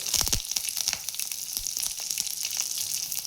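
Curry leaves dropped into about a spoonful of hot oil, crackling and sizzling loudly up close, with a few sharp pops at the start and a steady frying hiss throughout.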